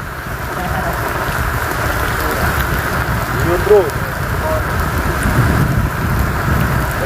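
Heavy rain pours down in a durian orchard during a storm with strong wind, a dense, constant hiss of drops on surfaces that stays loud and steady throughout, while someone briefly speaks over it.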